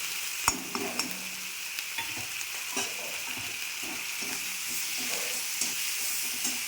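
Ginger-garlic paste with chilli, turmeric and cumin powders and tomato frying in a pan for a Bengali fish curry, giving a steady close sizzle with occasional light stirring clicks.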